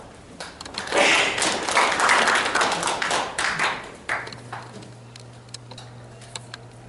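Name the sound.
audience applause welcoming a speaker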